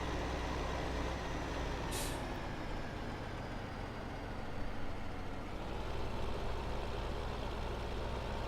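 A tractor engine in the video game Farming Simulator 2015 rumbles in a steady, loud low drone throughout. One short hissing burst, like an air brake, comes early on.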